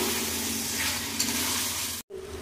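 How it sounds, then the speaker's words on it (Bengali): Chicken, mushrooms and potatoes sautéing in spiced oil in a wok, giving a loud, steady close sizzle with light stirring throughout, cut by a brief drop-out near the end. "আরও ভালো করে কষিয়ে নেবো কিছুক্ষণ"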